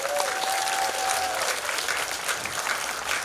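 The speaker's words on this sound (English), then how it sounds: "Can we start by giving all of them a round of applause?" Dense applause from an audience, steady clapping filling the whole moment, with a faint tone briefly sounding near the start.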